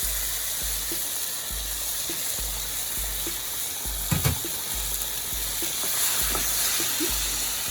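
Half a can of sauce poured into a hot pan sizzles and hisses steadily, with soft periodic thumps and a brief sharp spatter burst partway through, no talking.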